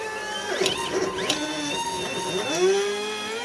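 Stepper motors on a homemade CNC engraving machine drive the X axis through a coupler and lead screw, giving a whirring, pitch-sweeping mechanical whine that rises and falls in short moves, close and fairly quiet.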